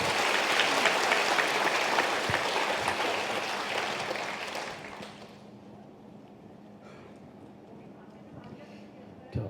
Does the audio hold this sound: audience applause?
yes